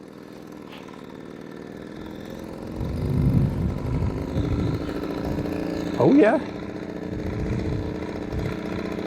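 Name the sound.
Velo Solex 1700 vintage moped engine running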